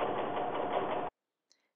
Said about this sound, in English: begin sewing down the inseam, taking time to remove the pins as you go along